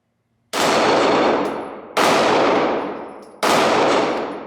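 Three Glock 45 pistol shots, each followed by a ringing metallic clang from a steel target, evenly spaced about a second and a half apart, loud and close with no talk.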